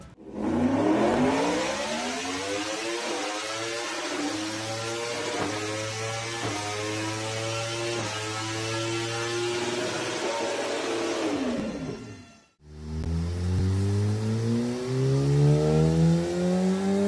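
A Yamaha R1 inline four-cylinder sport motorcycle engine revs hard and close, rising in a long climbing wail, holding high, then dropping after a brief cut before revving up again.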